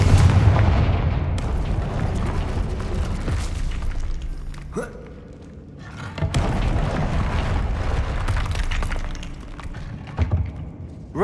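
Confringo fire spells detonate in the video game Hogwarts Legacy. Loud, heavy booms burst one after another, with a short lull in the middle before more blasts follow.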